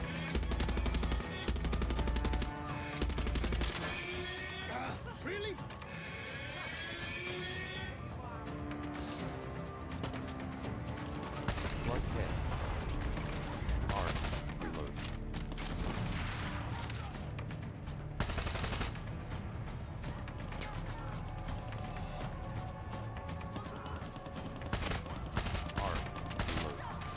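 Assault rifle gunfire in the video game Far Cry 6, heard as repeated loud bursts and single shots scattered over a busy game soundscape.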